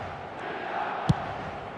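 Match-day crowd in a football stadium in eFootball, a steady, distant roar of massed voices with one brief louder shout rising near the end.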